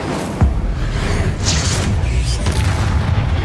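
A Confringo spell explosion in the Hogwarts Legacy video game, a loud rumbling boom with whooshing bursts layered over continuous low, heavy in-game noise.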